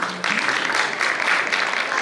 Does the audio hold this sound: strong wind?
no